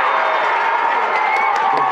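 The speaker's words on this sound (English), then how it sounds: "Crowd's going nuts here, Coconino, as they should." High school football crowd roaring and cheering after a blocked field goal, a dense sustained wash of shouting voices with whoops rising through it, loud and continuous for the whole moment.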